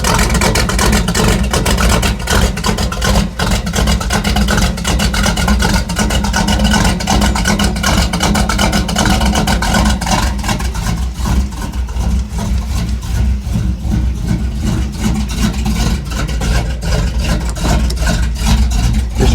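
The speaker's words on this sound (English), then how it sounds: "Usually when it's cold, it has a low idle." Mopar truck engine idling low after a cold start, heard from inside the cab as a loud, steady rumble with a continuous rough pulse.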